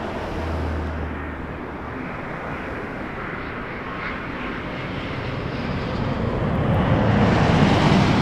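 A jet airliner taking off from runway 23 at Toronto Pearson Airport, a loud steady broadband engine roar that builds gradually toward the end, heard alone without voices.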